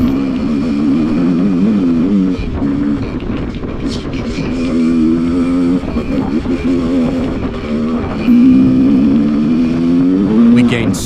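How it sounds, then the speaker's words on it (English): Dirt bikes ride at full speed on deserted muddy trails in a tropical storm, their engines droning and rising in pitch as they rev, loud and close, with a voice talking over the engines. "The feeling you get when you're riding dirt bikes through these deserted trails"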